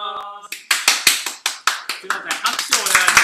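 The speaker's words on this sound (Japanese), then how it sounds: "拍手をお願いします。" A small audience claps during the opening of a stage comedy set, with sharp, separate handclaps in a quick, uneven rhythm close by while someone speaks.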